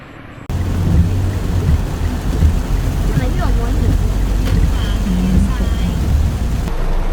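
Heavy rain pours at Sukhothai Historical Park in Thailand, a loud, steady, close wash of noise that holds unbroken after an abrupt start.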